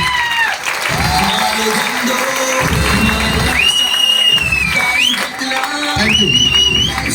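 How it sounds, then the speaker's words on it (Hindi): Loud crowd applause and cheering fill a corporate plan presentation stage event in Virar, with bursts of clapping and shouts swelling and dipping throughout, rising again near the end. "जोरदार ताली से स्वागत करता हूं my life global private limited"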